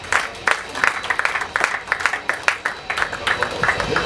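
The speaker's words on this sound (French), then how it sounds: "On acclame très fort le Seigneur" A church congregation claps and cheers in praise of the Lord during a graduation service, with a dense, steady burst of applause and crowd noise that stays loud throughout.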